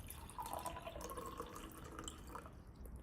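Water from a tap or jug trickles and drips steadily for a few seconds, standing in for blood in a school Montessori chemistry demonstration of an artery from the heart; close, moderate level, no talk.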